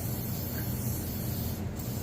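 A steady, close aerosol spray hisses continuously onto carburetor parts during a Holley 700 reassembly, with a brief dip near the end.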